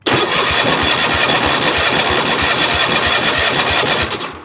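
A Cub Cadet engine being cranked over during a compression test, a loud, steady, rapid chugging rhythm from the starter that runs unbroken for several seconds before tapering off, close up with no talking.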